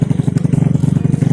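Yamaha Mio J scooter with a 150 cc engine running close by, a steady rapid pulsing putter with a slight clattery edge, loud and alone without any talk.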